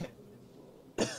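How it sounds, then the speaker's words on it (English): A single short cough, preceded by a brief faint throat sound and quiet room tone. "Are you okay? You're coughing a lot."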